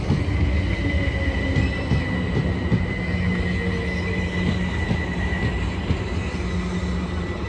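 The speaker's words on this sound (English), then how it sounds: "387121 is leading as the service to Alton departs" A Class 387 electric train, unit 387121 leading, pulls away from Clapham Junction on a service to Alton, giving a steady rumble with faint wheel squeal and tonal whine, heard alone.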